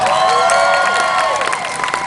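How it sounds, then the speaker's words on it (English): A cosplay contest audience claps and cheers for a contestant, dense and loud throughout the brief burst, with a few voices calling out above the applause. "another big round of applause for Kira"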